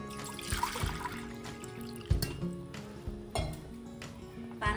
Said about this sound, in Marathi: आणि पाणी टाकू।